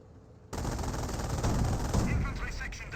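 Rapid automatic 20mm cannon fire in the real-time strategy game Company of Heroes, a loud, dense burst that erupts after a short quiet lead-in and hammers on without pause, with battlefield noise layered underneath.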